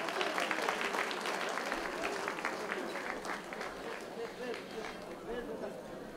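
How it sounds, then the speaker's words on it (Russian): Audience applause at a boxing award ceremony during an international boxing tournament in Vladikavkaz, a steady wash of many hands clapping in a large hall, moderately loud and continuous, with crowd chatter underneath. "Под ваши аплодисменты,"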